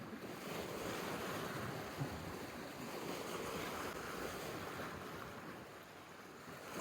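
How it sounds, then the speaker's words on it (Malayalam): Waves on the Dead Sea after dark, heard as a steady broadband wash of surf mixed with gusting wind rumbling over the microphone, continuous for the whole stretch with no voices. "തിരമാലകളും ഉണ്ട്"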